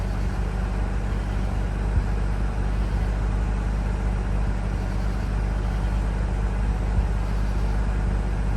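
A 2004 Mazda RX8 rotary engine that had sat unused for two years holds a steady idle, its low rumbling drone loud, close and unbroken, with no talking over it.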